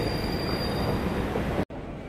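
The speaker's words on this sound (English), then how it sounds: "So, as you can see, there's a train." A train at a station platform, a loud steady roar of wheels on rails with a faint high squeal, close by, cut off briefly by a sharp gap near the end before the rumble resumes.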